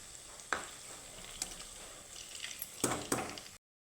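Palm fruit pitha fry in a pan, a faint steady sizzle with a few soft clatters as the cakes are stirred and turned, ending abruptly in silence.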